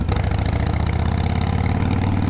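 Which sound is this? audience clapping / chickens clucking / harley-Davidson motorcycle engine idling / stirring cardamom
harley-Davidson motorcycle engine idling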